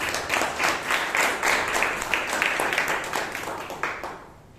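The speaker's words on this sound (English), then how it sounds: "a big round of applause to all our tag team players today" A roomful of people at a Toastmasters club meeting in Bangalore give a round of applause for the tag team players, dense steady clapping that holds for several seconds before thinning and fading out.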